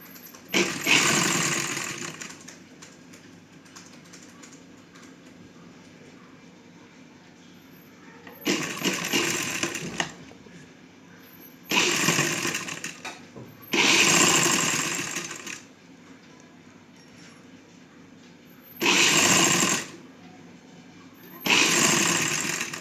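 Sewing machine stitching a small Rajasthani summer dress for a Laddu Gopal idol, running in six short whirring bursts separated by quiet pauses, close and clear with no talk.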